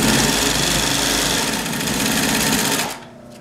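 A vintage clutch motor drives a Pfaff 138 industrial sewing machine, a loud, steady mechanical whir and needle clatter up close that cuts off near the end, leaving a fading hum.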